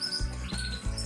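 Caged canaries, a yellow male and a female kept for breeding, chirp in quick bright tweets over a steady low hum, close and fairly loud, with no voices.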